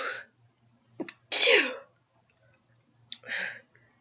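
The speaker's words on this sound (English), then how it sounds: "Claire simply sneezed in response." A woman sneezes twice, close and fairly loud, each sneeze a sharp intake followed by a breathy burst, with a quiet pause between them and faint low hum underneath.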